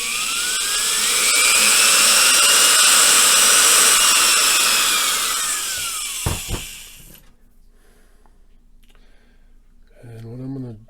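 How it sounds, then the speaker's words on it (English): A high-pitched power drill whines steadily for several seconds drilling into pine wood, then winds down and stops; a few clicks and a brief voice follow near the end. "then take the drill"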